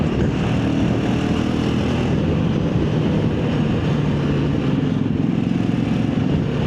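A 500 cc motorcycle on a Sunday group breakfast ride around Delhi gives a steady, loud, continuous engine drone with thumping low-end rumble, heard close and alone for the whole stretch without a break.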